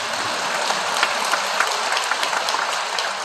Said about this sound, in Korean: 여러분 너무 박수 치지 마세요.